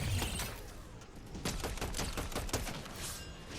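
Rapid bursts of gunfire in a building shooter video game, a dense volley of sharp repeated shots crackling with thuds, loud and close, with no talking.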